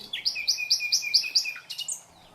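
A nightingale sings a short phrase of rapid, repeated high whistled notes in a steady rhythm, ending on a brighter flourish, clear and close with nothing else heard.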